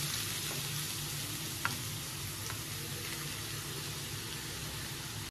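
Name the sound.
grated carrots sizzling in hot ghee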